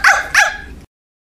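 A dog gives two loud, sharp barks close by in quick succession, followed by abrupt silence.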